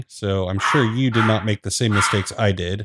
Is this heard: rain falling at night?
no